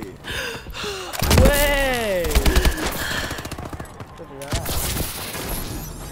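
Scattered shots from a shooting video game ring out in the background while a person talks excitedly over them, with a few sharp cracks standing out near the middle.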